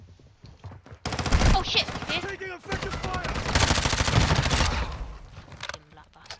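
Rapid automatic gunfire bursts in a Call of Duty Warzone match, loud and sustained across most of the stretch, with players shouting and talking over the shooting.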